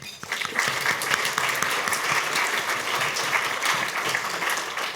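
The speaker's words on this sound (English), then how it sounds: "Please give them a round of applause." Audience applause at a Chicago Department of Housing event, a dense steady clapping from a crowd that holds loud and continuous throughout with no break.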